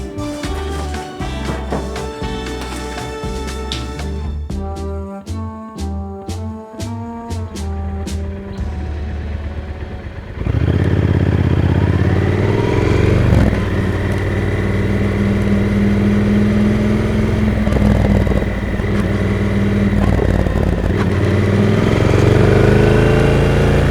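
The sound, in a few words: motorcycle riding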